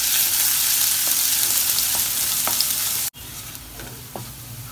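Garlic and ginger paste frying in hot oil with a steady, close sizzle and faint stirring clicks, briefly cutting out near the end before the sizzle resumes.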